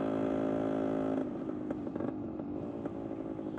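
A 1975 Yamaha DT125 motorcycle is ridden, heard close from a helmet camera: a buzzing engine note holds, then drops off as the revs fall, with light clattering and wind.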